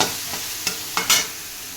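Garlic dropped into a hot pan of taro leaves, a close sizzle with a few sharp stirring scrapes and clatters near the end.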